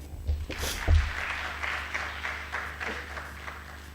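Audience applause at a lecture event honouring Gandhi, a moderate, fairly distant patter of many hands clapping steadily and evenly throughout, heard without talking over it.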